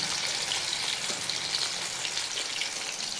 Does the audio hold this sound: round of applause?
no